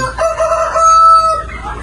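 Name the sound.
chicken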